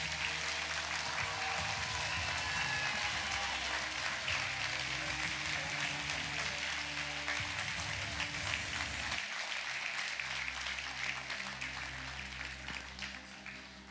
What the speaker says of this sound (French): un tonnerre d'applaudissements encore une fois